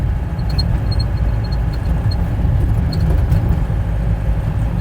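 Steady low road rumble of a car driving along a wide road in the early morning, continuous and fairly loud with no talking.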